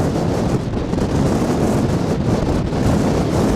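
Strong wind blowing across open prairie grassland, a loud rough rumble buffeting the microphone continuously with gusty swells and no pauses.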